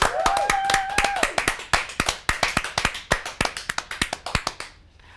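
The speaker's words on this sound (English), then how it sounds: "Can we please have a big round of applause for our wonderful guest, Damien Johnson?" A studio audience claps for a guest on a comedy talk show, the claps sharp and close, tapering off over about five seconds; a brief voice-like tone rises near the start.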